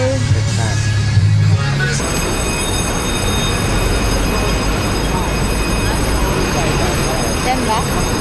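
An MTR train ride in Hong Kong, with a steady low rumble of the carriage in motion and a high whining tone, after a brief muffled voice-like sound at the start.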